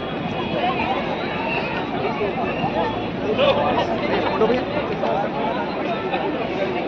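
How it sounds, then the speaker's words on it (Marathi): Dense crowd chatter at the Gateway of India in Mumbai, a continuous hubbub of many overlapping voices, close and steady throughout on a sunny day outdoors. "गर्दी बघू शकता किती आहे आज।"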